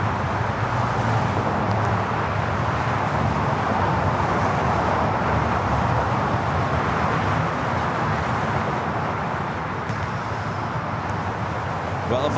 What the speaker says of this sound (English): if I turn down the traffic noise, then I turn down the audio for the planes